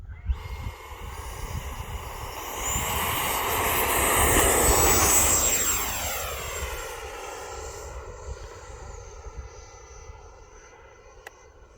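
An E-flite F-16 Falcon 80mm electric ducted-fan RC jet in Toledo livery takes off, its high whine swelling as it passes close by, then falling in pitch and fading into the distance.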